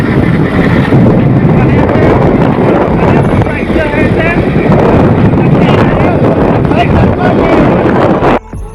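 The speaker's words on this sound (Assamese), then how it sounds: "বতাহৰ মাতটো বেছিকৈ শুনি আছে নহয় জানো?" Loud, constant wind buffets the microphone in a roaring rumble that drowns out muffled voices, then drops off abruptly at the end.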